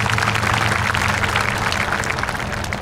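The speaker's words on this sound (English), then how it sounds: "We can clap for them." Audience claps for volunteering staff at the Sealy High School Class of 2020 graduation ceremony, a thick, steady roll of applause from a large seated crowd, loud and close, without speech.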